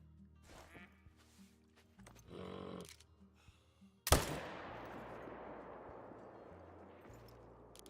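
A single loud gunshot in a shooter game cracks out sharply, then a long noisy tail of echo or debris fades over several seconds, after quieter game sounds and soft ambient tones.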